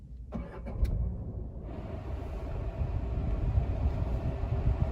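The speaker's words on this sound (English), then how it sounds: "Now let me start the car for you guys." Tata Punch AMT compact car started with its push start/stop button: a soft click, then the engine catching and settling into a steady low idle hum, close by with no talking.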